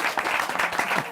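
A studio audience on a talk show claps and cheers for a gynecologist guest, steady, close applause filling the whole moment with no one talking over it.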